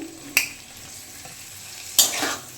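Fried potatoes being stirred into a pan of mutton and fat, with a low steady sizzle broken by two sharp scraping clanks of the spoon against the pan, close and without voices.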